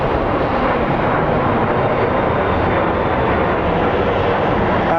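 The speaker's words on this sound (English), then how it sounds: "let's take a look at this plane that's departing." An airplane departing Phoenix Sky Harbor International Airport, a loud, steady broadband engine roar that holds constant for the whole stretch with no talking.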